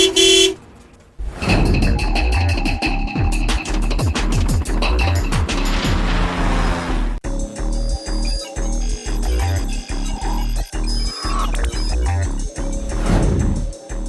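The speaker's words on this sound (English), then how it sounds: "Now all you have to do is learn how to use the horn." A car horn honks repeatedly in a PS3 racing video game, loud, bright and tonal, blending with engine roar and driving sounds.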